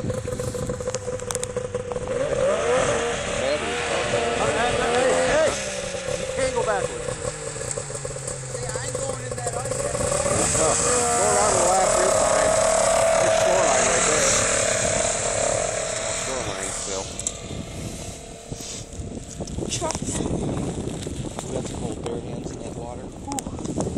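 A tractor stuck in ice runs its engine continuously, a steady droning motor with rising and falling revving, scraping and crackling over it, and faint voices in the background.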